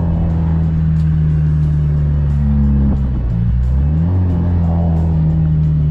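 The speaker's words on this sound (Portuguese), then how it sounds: "E que ele anda bem pra caramba esse carrinho" Small Fiat Uno car engine revving and accelerating, a loud close droning hum that dips briefly as the revs shift, then climbs again, with no voices present.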